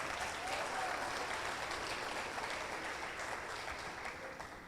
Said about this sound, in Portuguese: Um aplauso bem forte para o Senhor Jesus.